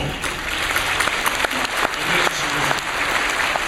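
A church congregation breaks into steady, dense applause that fills the hall evenly, with no voices standing out above the clapping.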